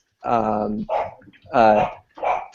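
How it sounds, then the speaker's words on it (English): Dogs barking in the background of a home podcast recording, a few loud, drawn-out barks and yelps in two bursts with no talk over them. "If you hear the dogs in the back, short dog interlude."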